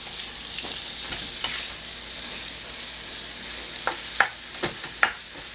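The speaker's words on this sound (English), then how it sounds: "And we're going to stir that up a little bit" Ground turkey sizzling steadily in a pan, with a run of sharp scrape-and-clack stir strokes near the end.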